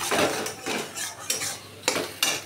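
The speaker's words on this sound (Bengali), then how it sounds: "ভালো করে এইভাবে নাড়িয়ে আমি এটাকে ডিমের ভুজিয়া বানিয়ে নিচ্ছি।" Egg bhujia is stirred in a pan with a metal utensil, giving repeated close scraping strokes, roughly six in a loose rhythm, over a faint sizzle with no one talking.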